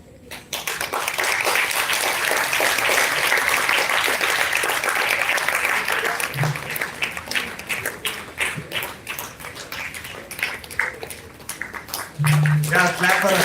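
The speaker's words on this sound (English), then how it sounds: "clap for her" Audience applauding at a college valedictory function during a certificate presentation, sustained dense clapping that swells and then thins into scattered claps, with an announcer's voice cutting in near the end.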